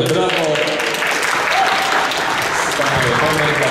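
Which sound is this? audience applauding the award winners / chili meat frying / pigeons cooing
audience applauding the award winners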